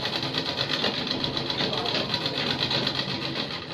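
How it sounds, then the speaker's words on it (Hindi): Home sewing machine stitching cloth face masks, a steady, fast whirring motor with a rapid mechanical needle rhythm running continuously and fairly close throughout. "घर पर सिलाई मशीन से कपड़े के मास्क बनाती हैं"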